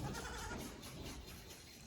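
Goats, including baby goats, bleating on a farm: a few faint, wavering cries heard against a soft, noisy background.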